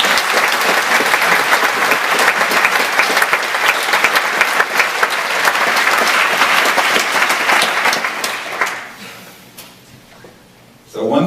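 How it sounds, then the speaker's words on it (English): A big round of applause from an audience at a live presentation, dense, loud, sustained clapping with some crowd noise for about nine seconds, then tapering off into quiet room sound. "So a big round of applause for all you guys."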